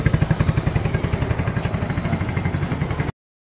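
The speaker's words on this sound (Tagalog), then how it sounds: "Tambutso na lang po naririnig" A Mio Sporty 115 motorcycle after a timing chain replacement idles steadily, its exhaust putting out an even, rapid low putter close by for a few seconds before cutting off abruptly.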